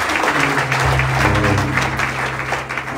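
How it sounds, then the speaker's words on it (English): A church congregation gives a round of applause during a Sunday morning service, steady close clapping throughout with a faint low tone and some murmur underneath. "Let's give him a round of applause."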